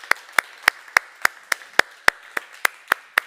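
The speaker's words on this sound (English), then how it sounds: "Everyone's clapping really loudly right now." Hands clap sharply and evenly about a dozen times at a steady rhythm, each clap crisp and distinct, sounding like one or a few people applauding after a talk rather than a full crowd.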